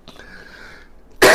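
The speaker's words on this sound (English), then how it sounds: "I'm coughing." A single short cough bursts out near the end, loud and harsh, after a brief stretch of faint breathy sound.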